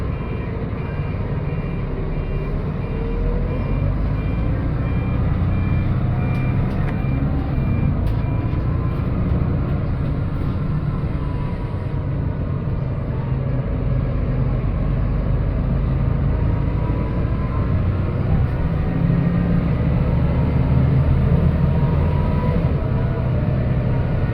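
A Renault Agoraline bus with a custom CB60 body runs its engine in a steady, loud diesel drone, with faint repeating beeps on top and no talking.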